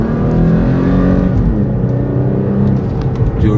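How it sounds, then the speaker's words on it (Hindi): A 2016 Toyota Tacoma pickup truck pulls hard at full throttle, its engine note a loud, close, steady roar with a rising rumble that holds for several seconds with no voices. "गाड़ी को अभी जैसे मैंने फ्लोर किया है"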